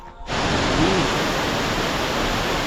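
A waterfall in Bali starts abruptly and continues as a steady broadband roar of rushing water, loud and unchanging.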